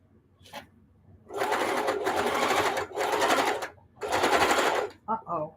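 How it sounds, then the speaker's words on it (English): A home sewing machine stitches the side of a hot pad made from upcycled denim jeans. It runs in three loud, steady bursts with short pauses between them, followed by a couple of quick stutters near the end. "Now I'm going to sew the other side"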